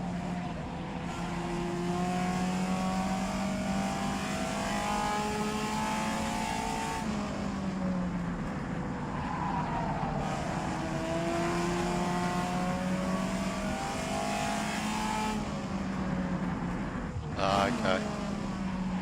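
A Porsche race car engine in a sim racing game during Targa Florio practice drones steadily and climbs in pitch, with several clear gear shifts and a brief sharp burst near the end.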